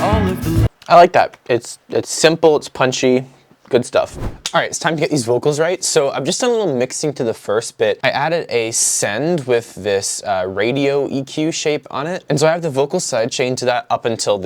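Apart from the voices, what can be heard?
No everyday noise stands out behind the speech.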